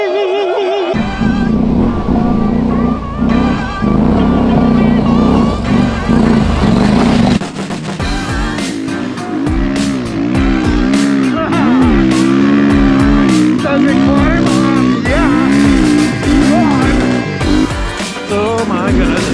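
Adventure motorcycles set off together in a small group ride, engines loud and close, revving and rising through gears with overlapping roars and shifting pitch throughout.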